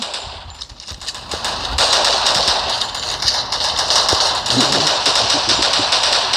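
Rapid automatic gunfire in the shooter game Free Fire rattles on continuously, loud and dense, with a brief lull near the start before sustained firing.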